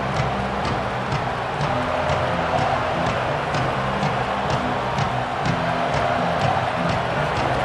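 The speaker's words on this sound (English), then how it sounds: "This crowd, full throat, spreading the eardrums" Steady, dense crowd roar fills a Michigan vs Penn State college football stadium, constant and loud throughout with faint rhythmic clicks over the wash of voices.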